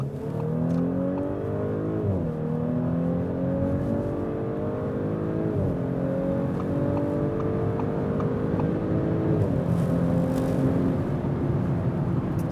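A 2023-style Audi S4 Avant with a 354 hp V6 pulls hard on the Autobahn, the engine note climbing steadily through several gears with brief dips at each shift, a loud continuous interior drone.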